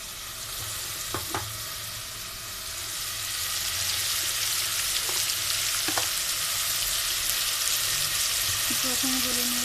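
Pointed gourd frying in a pan for a hilsa fish curry, a continuous close sizzle that grows a little louder midway, broken by a few faint clicks and knocks of a utensil.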